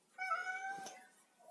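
A thin stray cat cowering by a garden gate at dawn gives one drawn-out, close meow with a bright harmonic tone, fading out at the end.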